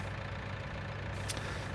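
A tractor engine idles steadily in Farming Simulator 2019, a constant low mechanical rumble with no break, plus a brief faint high click near the end.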